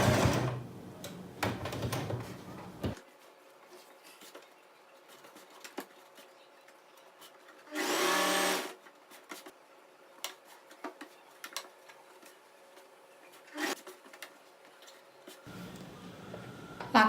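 A sewing machine stitches falls onto a saree in short bursts of rapid mechanical whirring and ticking, one at the start and one at the end, separated by a long, quiet stretch with faint ticks and a brief rustle.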